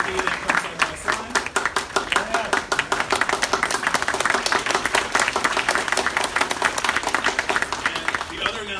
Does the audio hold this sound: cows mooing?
no